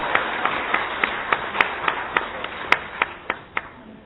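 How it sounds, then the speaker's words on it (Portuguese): An audience at a formal civic session in a legislative chamber claps steadily for about four seconds, giving a regular, rhythmic patter of fairly close, distinct hand claps rather than a thick roar. "eu quero sugerir uma grande salva de palmas"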